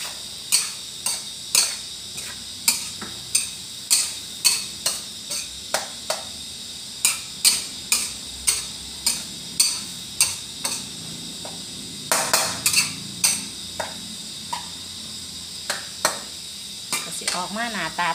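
A spatula scrapes and taps rhythmically against a pan while a seasoned vegetable stir-fry with dark soy sauce is stirred, producing steady repeated clinks with a brief busier flurry partway through, up close and without talk.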